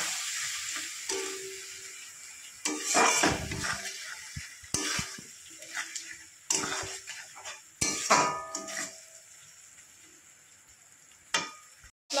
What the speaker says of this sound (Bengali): এবার আমি সমস্ত মশলাগুলো ভালো করে কষিয়ে নেব।